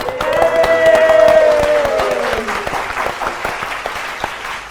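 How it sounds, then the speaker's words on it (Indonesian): Studio audience applause on an Indonesian quiz show, steady dense clapping lasting the whole stretch with a sustained musical tone ringing over it early on, then easing slightly toward the end. "kita beri tepuk tangan dulu untuk kedua tim"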